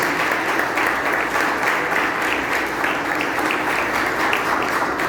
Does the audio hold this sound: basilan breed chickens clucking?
no